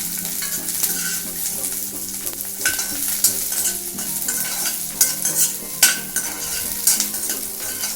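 Small onions (shallots) sautéing in a pan for groundnut chutney, with a steady sizzle and repeated scraping stirs of a spoon against the pan, close and fairly loud, no talking.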